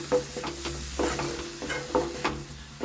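A spoon scrapes and stirs through a thick masala mixture in a hot pan, with a soft sizzle and repeated scraping strokes every half second or so.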